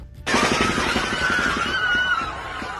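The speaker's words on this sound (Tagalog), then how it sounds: "maririnig ang sunod-sunod na putok ng baril at sigawan ng mga botante" A rapid burst of gunfire at an elementary school polling place, many shots in quick succession, loud and chaotic with voters shouting underneath.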